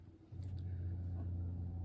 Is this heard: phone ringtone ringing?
no